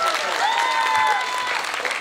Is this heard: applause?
yes